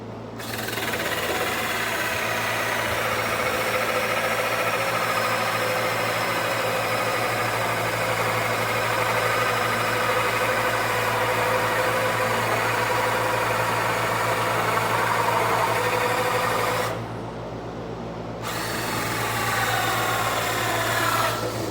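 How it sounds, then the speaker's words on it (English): Boring a hole through a tweeter mounting plate for a JBL 250Ti clone speaker, a continuous droning machine whine with a low steady hum, running loud and even with a brief dip near the end. "So we're gonna bore out through the center here so this tweeter will fit into our mounting plate."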